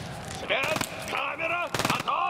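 Automatic weapon fire in the shooter game Escape From Tarkov Arena comes in two short, loud rapid bursts. Someone speaks between and over the shots.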